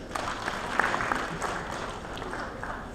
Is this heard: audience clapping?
yes